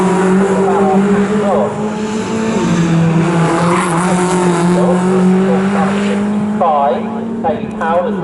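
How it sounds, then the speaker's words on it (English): MG Trophy race cars lapping Snetterton circuit, engines droning loudly and continuously with gear changes and pitch sweeps as cars pass, while a commentator talks over them. "try and challenge Tyler Ballard as they go down towards the left-hander at Brundle"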